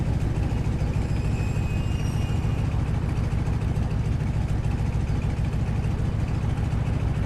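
A Stearman biplane's engine idling in Microsoft Flight, a steady low rumbling drone with a fast even pulse throughout, loud and close with no talk.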